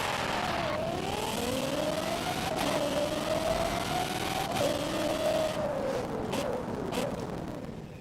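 A car engine in the video game Forza Horizon 5, revving up and holding a sustained tone that rises and falls, with brief shifts and a fade as it settles toward the end.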